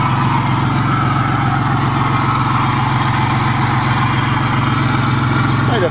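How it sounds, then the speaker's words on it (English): A steady, loud engine of a Dodge 3.3 running continuously with a rough, noisy whir and rattle from a noisy water pump, close by, unchanging throughout. "Kind of a noisy water pump, but who the hell cares?"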